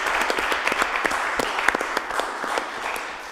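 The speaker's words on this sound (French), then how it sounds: "on peut applaudir pour vous dans ce cas" A studio audience applauds at a televised quiz show, steady dense clapping throughout with no talk on top.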